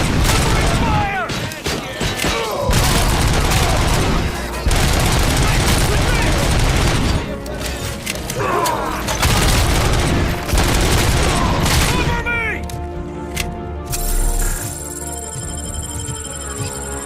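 Sustained bursts of video game gunfire from RoboCop: Rogue City, loud and dense with rapid automatic fire and booming impacts, easing into a quieter mechanical tail with a steady tone near the end; voices shout over the combat.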